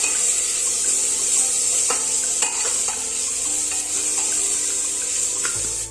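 Spices with tomato and ginger-garlic paste fry in a pan for egg biryani, a steady loud sizzle with a few sharp scraping stirs of a spoon against the pan.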